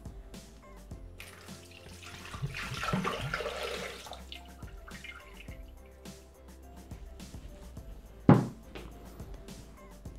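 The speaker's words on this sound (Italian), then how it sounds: "Versiamo all'interno del boccale l'acqua." Water poured into a Thermomix bowl in a kitchen, a steady running and splashing that swells briefly midway and ends with a louder clunk, heard close without talk.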